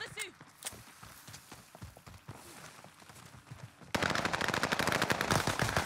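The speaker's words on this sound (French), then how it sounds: "Il me tire dessus." Automatic gunfire in the battle royale game Warzone, a dense, loud burst of rapid shots that suddenly erupts near the end after quieter game sounds, with people talking over it.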